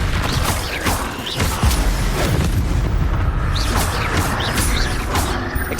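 Spell blasts from the video game Hogwarts Legacy, loud booming explosions with crackling, whooshing bursts repeating in quick succession over a dense rumbling bed, no talking.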